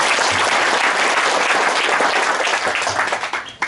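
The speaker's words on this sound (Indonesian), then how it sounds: "Bapak Bambang Sardianto Kingkong, tepuk tangan bagi beliau." Applause from an audience at a village gathering with a regency head in Wonogiri, Indonesia, dense loud clapping that holds steady and then thins out in the final moments, with no talk over it.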